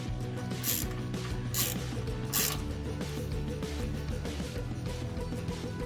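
A socket wrench with a T45 socket ratchets as it tightens a passenger peg mount on a Harley-Davidson M8 Softail motorcycle. Close, steady clicking over a low hum, with a few louder strokes early on and no voices.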